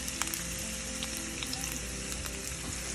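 Chopped onions fry in oil in a pan on a home stove for a long bean stir-fry, giving a constant close, even sizzle with a few faint crackles and no voices.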